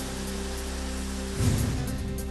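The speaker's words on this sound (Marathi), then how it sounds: "मुंबईच्या दादर सायन परिसरामध्ये रिमझिम पाऊस" Light drizzle falls steadily in Mumbai's Dadar-Sion area, an even hiss of rain on surfaces with a slightly heavier patter partway through and no voices.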